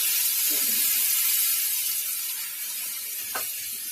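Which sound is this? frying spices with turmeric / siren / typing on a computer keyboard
frying spices with turmeric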